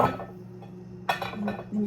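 A plate and utensils clink while chiffon cake ingredients are measured in a kitchen, with several sharp close chinks in a quick cluster and a faint hum beneath.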